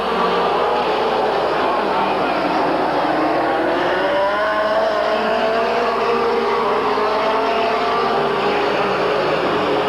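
Race cars at Midvale Speedway in 1985 roaring around the track, a loud, continuous engine drone with rising and falling pitch as cars pass, dense and sustained across the whole stretch.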